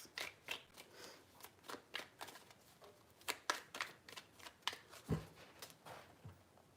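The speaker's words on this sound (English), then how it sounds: "Three shuffles." Tarot cards are shuffled in a run of quick, crisp riffling bursts, each a short papery snap, repeating at a steady irregular rhythm close up with no talking.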